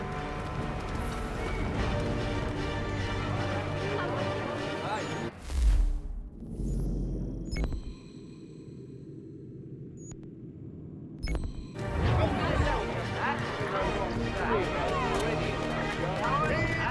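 Horses' hooves clip-clop in Assassin's Creed 3 Remastered, close and busy for several seconds, breaking off into a quieter stretch with sparse tones, then resuming in a dense rhythm.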